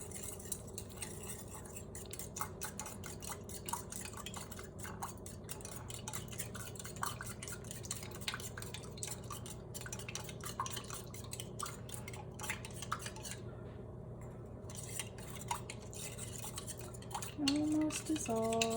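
A plastic spoon stirring salt into vinegar in a container, with faint, irregular scraping and light clinks through a quiet background, no talking.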